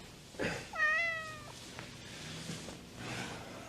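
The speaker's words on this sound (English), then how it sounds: "Watch the cat, it sheds." A cat gives a single clear, rising-and-falling meow indoors, fairly close, followed by quiet room noise and faint movement.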